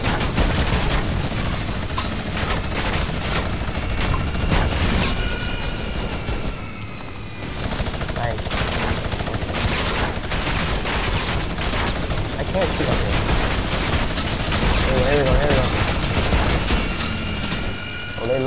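Dense, loud bursts of automatic gunfire and booms fill a shooter game as a player is fired on repeatedly, nearly continuous rattling with a short lull midway.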